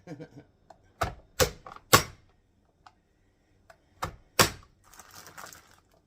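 Baby carrots being chopped with a knife while making pinto bean soup: a handful of sharp, close knife strikes on a board, spaced irregularly in small bursts with brief pauses between, fairly quiet overall.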